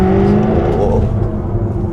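A car with its exhaust button switched on roars loud and close, with a deep sustained engine drone and tonal rasp that eases slightly toward the end.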